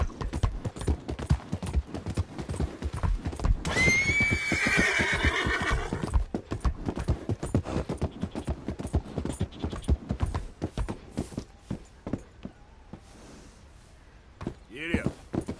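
A horse in Red Dead Redemption 2 gives one loud, clear whinny amid a steady, rhythmic clip-clop of hooves, with a voice heard briefly near the end.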